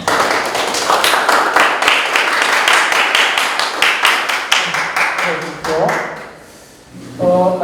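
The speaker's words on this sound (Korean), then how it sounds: "큰 박수 부탁드리겠습니다." An audience at a local election report meeting of a political party claps in a dense, lively burst that fades out near the end, with a voice beginning to speak over the last moments.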